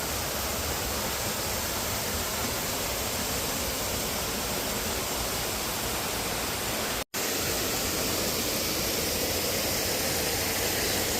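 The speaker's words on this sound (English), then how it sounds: "as you can hear, we found a waterfall" Steady, loud broadband rush of a waterfall beside a hiking trail in Panama, continuous and close with no voices, broken only by a momentary dropout partway through.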